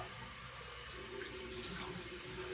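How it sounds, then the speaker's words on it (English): Cold well water runs steadily from a tap into a sink in Austin, Texas, a soft continuous splashing, fairly quiet, with a few faint drips and clinks. "We're going to do a cold water rinse"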